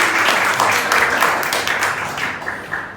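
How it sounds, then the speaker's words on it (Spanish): Audience applause at a youth talk, a dense sustained patter of clapping from a crowd that stays loud for about three seconds before easing slightly. "Sí, un aplauso, por favor."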